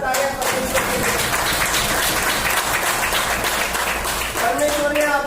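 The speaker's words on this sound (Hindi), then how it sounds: "एक जोरदार तालियां परमेश्वर के लिए।" A church congregation claps loudly through a Hindi sermon, a thick, sustained burst of applause with a voice audible at the start and again at the close.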